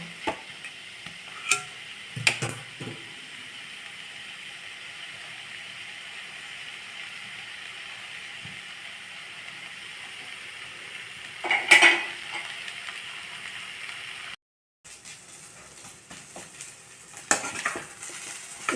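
Fenugreek leaf and lentil usili being dry-roasted in a pan, with a faint steady sizzle broken by a few sharp scrapes and clinks of a spoon stirring against the metal.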